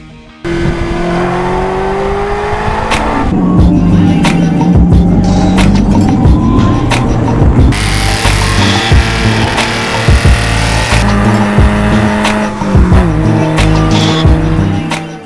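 A Porsche Cayman GT4 driven hard with its engine revving through the gears and tires squealing in long wavering howls, loud and close, continuous for the whole stretch with no talk.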